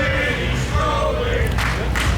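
Crowd at an Elite Wrestling Entertainment event cheering and yelling, a dense roar with shouts rising briefly near the end.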